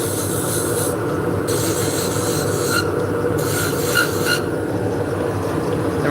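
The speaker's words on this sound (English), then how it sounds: "now we're going to take this tool. This is a beading tool. It's just a V." A V beading tool cuts into spinning wood on a lathe, giving a continuous gritty scraping whine with bright rasping bursts that start and stop in several passes, alone without talk.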